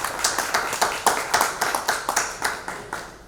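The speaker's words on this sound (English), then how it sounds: "Give her a big applause." A small audience at an India–Denmark relations event gives a brief round of clapping, a few close hands striking in an uneven quick rhythm rather than a full roar.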